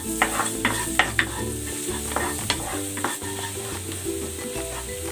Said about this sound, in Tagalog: Magigisa na ako ng bawang.